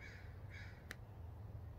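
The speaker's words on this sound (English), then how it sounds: "The crows out here are fine." Crows caw outdoors, two drawn-out calls heard at a distance over a steady low background hum, followed by a faint click.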